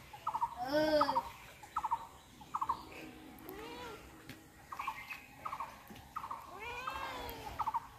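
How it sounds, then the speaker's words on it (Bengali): A cat meows in a series of short, rising and falling cries, some quick and close together, against a quiet rural backdrop at low overall loudness. "দেখি দেখি দেখি বিলাই কিতা করে।"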